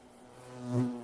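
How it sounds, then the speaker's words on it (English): A hornet buzzes very close, its droning hum swelling as it passes nearest and then fading slightly, with no talk over it. "It's a hornet."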